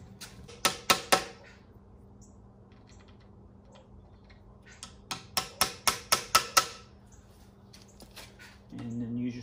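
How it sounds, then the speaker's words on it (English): A hammer taps deck railing screws several times in two quick bursts, sharp close knocks with quiet pauses between, then a low rumble starts at the end. "take your screwdriver or your hammer and start these screws again"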